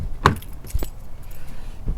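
Chevy Cruze car keys jingle briefly up close, a sharp metallic rattle followed by a couple of softer clinks and handling sounds.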